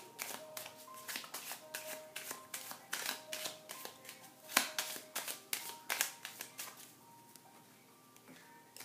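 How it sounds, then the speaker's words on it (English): Lenormand cards being shuffled by hand, a long run of crisp riffling bursts and flicks in irregular rhythm, close and fairly quiet, with no talking. "then we're going to shuffle the Lenormand"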